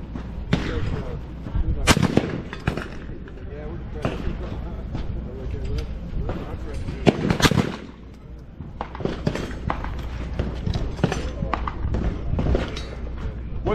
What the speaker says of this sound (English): Not much recoil with the target loads